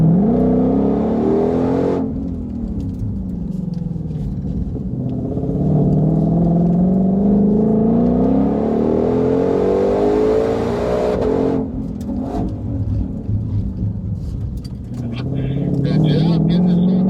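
A 2020 Shelby GT500 accelerating hard on a race track, its engine note rising and falling through gear changes, loud and close throughout, with a person talking over it.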